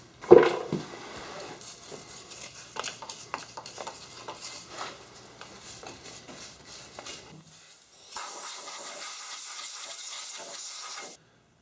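Aerosol brake cleaner sprays onto the hub of a Ford F-250 Super Duty during a locking hub replacement. After several seconds of quiet handling noise, a close, steady hiss bursts out for about three seconds and then stops.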